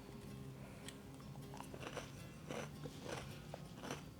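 Crunchy wheat puff treats are chewed up close, a run of quiet crisp bites and crackling crunches at an uneven rhythm over a low background hum, with no speech.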